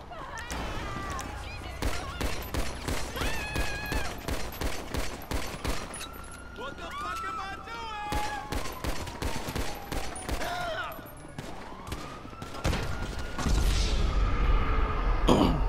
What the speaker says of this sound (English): Oh shit, who's shooting at me?